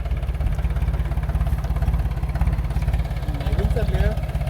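A farm tractor engine runs close by with a steady low throbbing chug at an even pulse, persisting throughout under brief faint voices.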